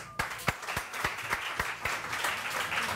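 Studio audience on a morning television show breaks into steady applause, dense overlapping claps with a few sharper hand strikes standing out, loud and close throughout with no talk over it.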